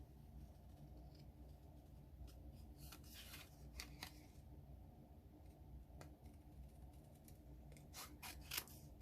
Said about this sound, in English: we'll just do a little bit of fussy cutting here on this butterfly